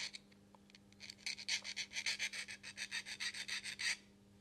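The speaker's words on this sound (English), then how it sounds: "is very nice for sanding down metal. And that just cleans up any little notches" Small metal etch model kit part being sanded or filed, a rapid run of about a dozen close, soft scraping strokes in steady rhythm, alone in a quiet room.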